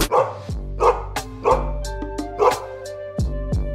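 Several dogs bark in repeated loud, sharp bursts, about four distinct volleys spaced roughly a second apart, with lower yips and a ringing tone underneath.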